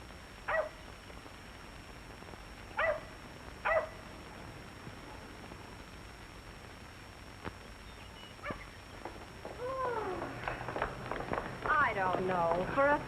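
A dog in a 1946 Hollywood comedy gives three short, sharp barks early on, then a run of whimpering, yipping cries that grows busier toward the end, all fairly close over a steady low background hiss.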